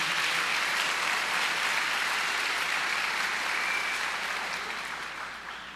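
A church congregation applauds for Jesus, a dense, sustained wash of clapping from many hands that holds steady and then slowly fades toward the end.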